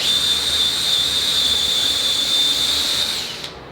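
A high, steady whine of a power drill running continuously close by, cutting off abruptly near the end.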